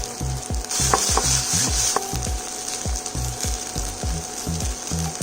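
Kimchi pancake frying in a pan, a bright steady sizzle punctuated by a rapid series of rhythmic spatula taps and scrapes as it is worked and flipped, close and fairly loud, no voices.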